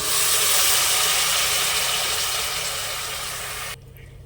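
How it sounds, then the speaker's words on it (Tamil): Soaked ponni rice tipped into a hot pan and sautéed for coconut rice gives a loud, steady hissing sizzle that fades slightly, then cuts off abruptly near the end, with no talking. "இப்போ அரிசியை போட்டுக்கலாம்"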